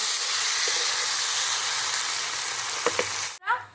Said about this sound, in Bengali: এটাকে একদম ভাজা ভাজা মতো করে নেবো